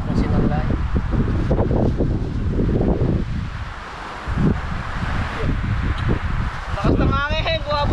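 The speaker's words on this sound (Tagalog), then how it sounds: "Lakas ng hangin. Bumabagyo na po." Strong storm wind gusts roar and buffet the microphone outdoors near mangroves while people talk and eat grilled tilapia nearby, with rustling throughout.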